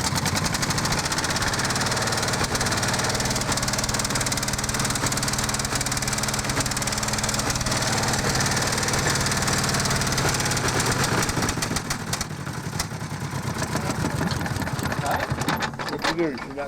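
A Caterpillar D9 dozer's diesel engine cranks and catches, then runs with a loud, rough, knocking rumble close by, while people talk nearby.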